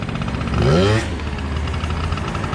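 A 1988 Honda Tact scooter engine running close by, with a brief throttle rise and fall near the start before settling back to a steady idle hum.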